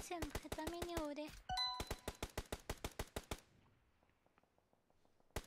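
Rapid automatic gunfire in the mobile battle royale game PUBG Mobile/Free Fire, heard as a fast, evenly spaced burst of sharp shots with some ringing tones, then fainter, sparser shots trailing off.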